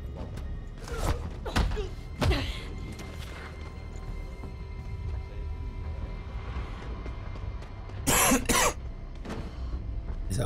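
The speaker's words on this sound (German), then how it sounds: "Dieser Husten, er regt mich auf." A character in the video game Beyond: Two Souls coughs in several short, harsh bursts spread across the stretch, with a louder double cough near the end, heard over low game ambience.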